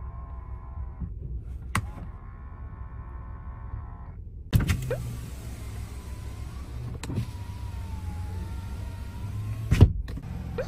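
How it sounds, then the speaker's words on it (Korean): Power-folding side mirrors on a QM5 Neo gasoline SUV whir steadily as the small motors run, with a couple of sharp clicks and thunks as the mirrors lock into place, close up and without talking. "접이식 사이드미러,"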